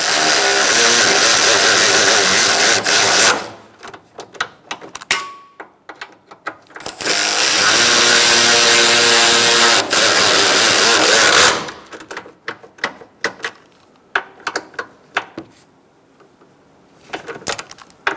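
Power tool snugging up the bolts of the engine cooling fan assembly on a 2012-2017 Hyundai Accent: two loud sustained whirring bursts, separated and followed by clanks and rattling handling noises.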